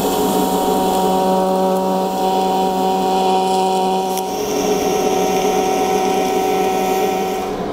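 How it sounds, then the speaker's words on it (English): A loud, steady electrical hum and buzz from TIG welding tack welds on a lower unit service stand runs continuously without pause, with a slight shift in tone midway and no speech. "Got a couple of tack welds on there now."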